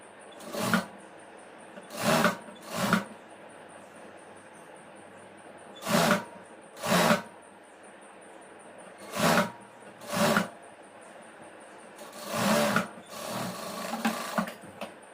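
A sewing machine stitching a chudidhar top runs in short bursts of about a second each. They come in a rhythmic series with quiet pauses between, close and moderately loud. A longer, more continuous run comes near the end.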